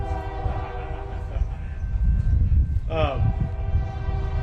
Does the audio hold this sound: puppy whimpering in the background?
no